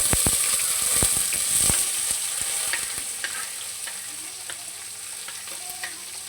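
Cumin and fennel seeds sizzle in hot oil for a village-style country chicken curry, a bright hissing crackle with sharp pops and stirring clicks early on, close and steady, easing slightly toward the end.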